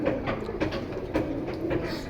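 Flock of caged club pigeons for sale, their low cooing layered into a dense, continuous murmur over steady background noise.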